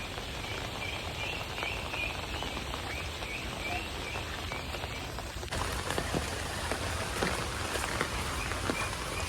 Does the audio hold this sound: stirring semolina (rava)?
no